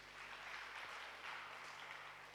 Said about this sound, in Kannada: ಚಪ್ಪಾಳೆ ತಟ್ಟಿ ದೇವರಿಗೆ